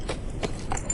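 Horse hooves clip-clop in about three soft thuds over a low steady background, at moderate distance with no talk.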